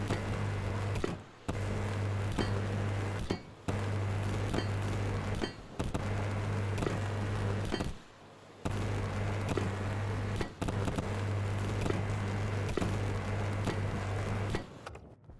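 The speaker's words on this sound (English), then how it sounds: "Now, let's weld things up." A welding tool in the space-survival game Stationeers, used on a Venus map, gives off a loud, steady, harsh buzzing hiss in several long bursts split by brief pauses, with no talking.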